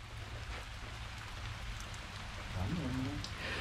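Steady rain sound in a dark, stormy video game scene, a continuous wash of falling drops, with a brief low tone near the end.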